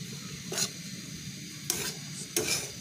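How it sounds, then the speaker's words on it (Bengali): Homemade breadcrumbs are stirred in a dry pan, a soft continuous hiss cut by three sharp scraping strokes of a spatula, close and fairly quiet. "চারদিকে আপনারা নাড়াচাড়া করে নেবেন"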